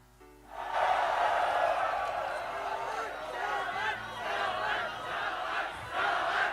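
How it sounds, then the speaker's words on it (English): A large esports arena crowd at the 2017 Rift Rivals League of Legends semi-finals chants and roars continuously, a loud, dense mass of voices swelling in waves from start to finish. "You can hear the crowd chanting."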